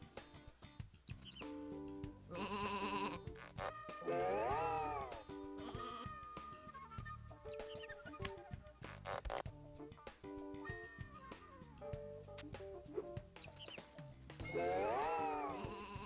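Sheep bleat in the video game Sheep Raider, two wavering calls standing out over a busy bed of game music and sound effects.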